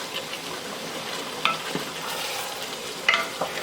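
Chicken and vegetables are stirred together in a pot with a soft scraping, sizzling rustle, with a few sharper clinks of the utensil against the pot, close by and with no talking.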